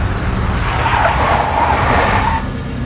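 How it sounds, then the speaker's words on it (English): A big black Mercedes drives in Max Payne Mobile, a steady loud engine and road rush with a drawn-out tire skid through the middle, fading slightly at the end. "A big black Mercedes."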